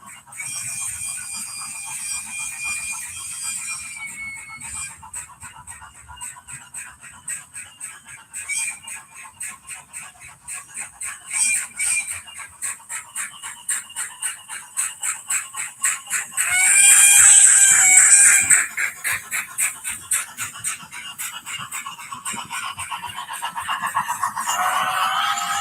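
Model Jones Goods steam locomotive sounding a thin, high whistle in several blasts over a fast, steady ticking chuff, fairly close and with no talking.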